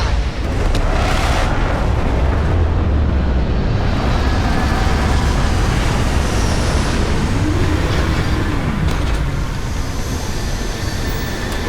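Spacecraft retro rockets firing during a landing in Starfield, a loud, dense, unbroken roar that rumbles for over ten seconds.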